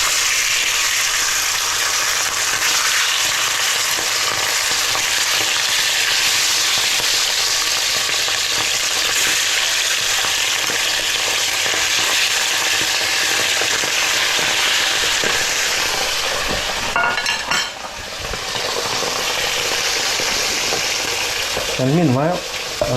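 Chicken pieces frying skin side down in a pan for Hungarian paprikash give a steady, loud, dense sizzle that holds throughout, with a brief clatter of handling near the end.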